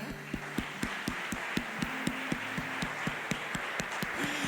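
A church congregation claps in steady rhythm, sharp evenly spaced beats a few times a second over sustained music, moderately loud and unbroken.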